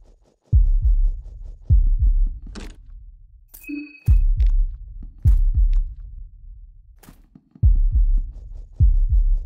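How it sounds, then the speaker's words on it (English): Heartbeat sound effect in the horror game Fear & Hunger Termina: loud, deep lub-dub thumps recurring in clusters at a steady pulse, with brief clicks and a short tonal blip between beats, close and without voices. "Okay, what's with the heartbeat noise?"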